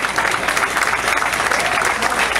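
Hearty audience applause at a local festival ceremony in Los Cabos, many hands clapping in a loud, continuous patter.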